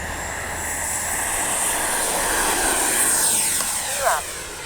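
An RC F-15 twin 64mm jet model roars past with a steady whooshing whine, swelling and shifting pitch as it flies by, while someone talks briefly over it.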